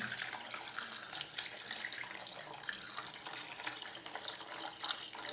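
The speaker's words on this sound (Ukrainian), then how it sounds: "Заливаємо зморшки водою кімнатної температури на 8 годин." Room-temperature water pours over dried morel mushrooms in a bowl, a continuous close splashing trickle that flows steadily without pause and with no talking.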